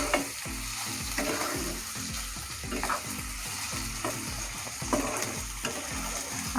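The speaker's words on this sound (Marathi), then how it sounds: "हे पण मिक्स करून घ्यायचं आपल्याला चांगलं।" Dry grated coconut is stirred into beans masala frying in a pan, producing a close, steady sizzle broken by regular rhythmic scrapes and clanks of the spoon, with no talking.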